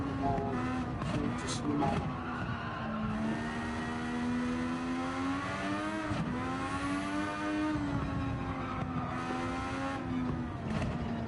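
A race car engine in Gran Turismo 7 drones through a lap in the cockpit view, rising and falling in pitch with gear changes and throttle, loud and steady throughout, with a few brief words spoken over it.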